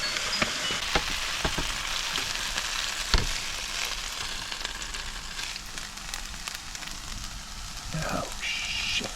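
Rice frying in a pan at a train station campsite makes a constant crackling sizzle, with sharp clicks and taps from stirring and a brief louder knock partway through.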